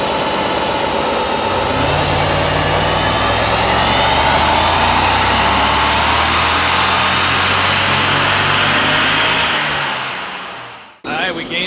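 A BMW E39 M5 engine pulls hard on a loaded dyno, a loud sustained roar rising steadily in pitch as it revs up, then cutting off abruptly near the end.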